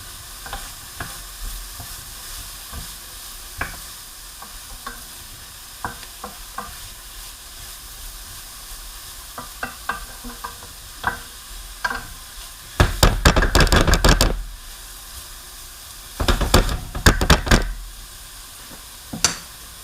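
Zucchini and yellow squash softening in a pan, giving a steady low sizzle with scattered crackles and two louder bursts of stirring and scraping later on, close and without talk.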